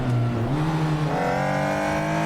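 Race car engine in the Assetto Corsa racing game revving hard, its pitch dropping as the clutch catches second gear and then climbing again, loud and continuous with no voices.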